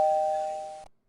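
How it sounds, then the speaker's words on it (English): A single bright electronic doorbell chime from trading software rings steadily for just under a second, then cuts off into silence. "yeah, little doorbell"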